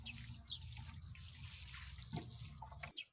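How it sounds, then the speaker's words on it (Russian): Water poured from a can or jug over rooted hedge cuttings, mixed with a rooting stimulant, giving a steady close splashing and trickling stream for about three seconds that stops abruptly at the end. "И уже поливаю наши черенки с корневином."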